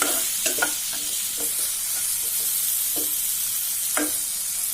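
Meat sizzles in a pan with potatoes while being stirred, a steady frying hiss with a few soft scrapes scattered through it.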